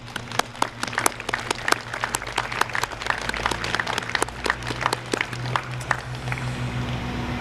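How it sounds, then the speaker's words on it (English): Applause breaks out for the parents at a middle school honor society ceremony, many hands clapping steadily and fairly close for several seconds before thinning out near the end. "I think you should give your parents a round of applause now."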